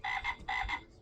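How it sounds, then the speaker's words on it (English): A frog croaks twice in quick succession, each call a short buzzy double pulse, fairly clear and isolated with no talking over it. "Next is the frog."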